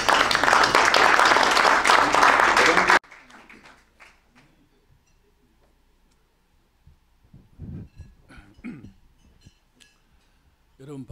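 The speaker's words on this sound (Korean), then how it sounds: "강사님을 큰 박수로 맞이해 주시겠습니다." An audience applauds for about three seconds to welcome a guest lecturer at a construction-industry breakfast forum. The clapping is loud and dense, then stops abruptly, leaving a quiet room with scattered small taps and rustling.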